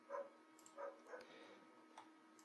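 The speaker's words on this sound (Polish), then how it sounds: "Mój piesek się z wami wita." A pet dog barks, probably the speaker's own dog in a nearby room, during a Don't Starve gaming session. Three short, moderate barks come at a steady pace over the first second and a half, then fade into quieter room noise with no talk.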